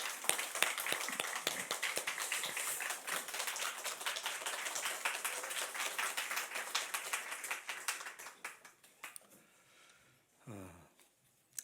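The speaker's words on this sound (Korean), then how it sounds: "나오실 때 우리 큰 박수로 환영하겠습니다" A church congregation claps to welcome a missionary speaker at a Sunday morning service, a dense, steady round of applause that fills the room for about eight seconds, then thins out and fades to near silence.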